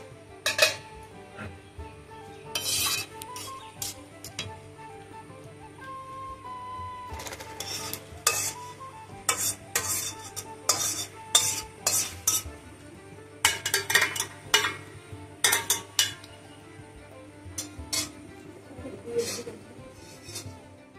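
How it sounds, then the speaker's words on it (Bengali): Boiled figs are mashed in a pan with a utensil, giving irregular clinks, scrapes and knocks of metal against the pan in uneven bursts, close and clear over a low background hum. "গরম অবস্থায় এভাবে চটকে নিতে হবে, তাহলে নরম হবে"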